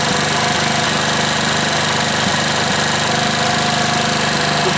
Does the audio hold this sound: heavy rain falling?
no